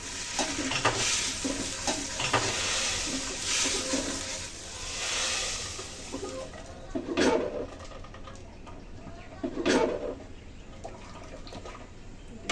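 Black mustard seeds, dried chillies, turmeric and coconut fry in a pan for a sour mango dal, a loud continuous sizzle with frequent stirring scrapes and a couple of sharper clatters later on.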